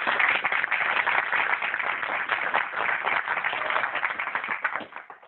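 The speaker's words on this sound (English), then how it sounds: "please a warm round of applause for Eva" Warm round of applause from an audience at a speaker-series talk welcoming speaker Eva Galperin, dense steady clapping filling the room for about five seconds before tapering off at the end.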